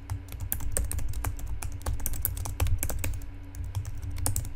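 Fast, steady typing on a computer keyboard, with close clicking keystrokes in quick bursts over a low background hum.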